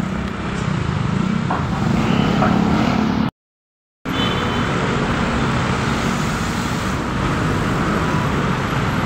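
Busy morning street traffic in Takay City, a dense, continuous roar of passing cars and engines, loud and close throughout, broken by a brief moment of silence.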